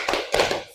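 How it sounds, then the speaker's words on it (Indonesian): A classroom group of students claps hands together in a short, quick burst of a few rhythmic slaps and taps, close and fairly loud. "kita tepuk semangat dulu"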